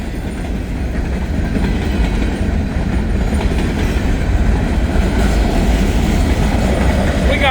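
A grain train passing on the tracks in the rain, a steady, loud rumble with a rhythmic clickety-clack of wheels that continues unbroken throughout, with no talk.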